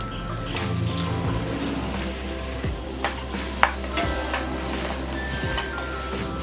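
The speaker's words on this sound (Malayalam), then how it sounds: "ഇനി കുക്കറിൽ വേവിച്ച് വെച്ചിരിക്കുന്ന ഇറച്ചി ഇട്ട് കൊടുക്കുക." Pressure-cooked beef goes into a pan with coconut for a Kerala-style beef fry, then is stirred and fried, giving steady sizzling with scraping spatula strokes and occasional clinks against the pan.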